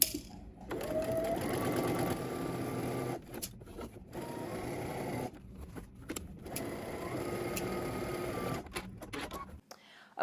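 A home sewing machine stitches a pant crotch seam with a 5/8 inch seam allowance, running in fast whirring bursts separated by short pauses, with someone talking over parts of it.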